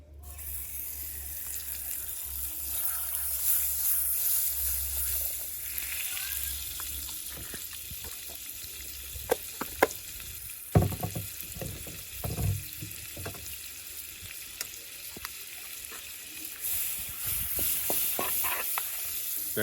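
Butter melting in a pan for spicy garlic butter crayfish makes a continuous sizzling hiss, broken midway by a few sharp clinks and bumps of utensils before settling back into steady frying.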